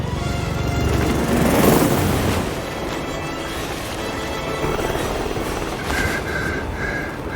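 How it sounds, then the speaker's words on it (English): A helicopter takes off in the video game Hitman 3, its engine a dense rumbling roar that swells then settles into a steady whir, with faint electronic beeps near the end and no talking. "Alexa Carlisle's helicopter just took off"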